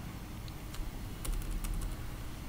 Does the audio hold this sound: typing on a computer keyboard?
yes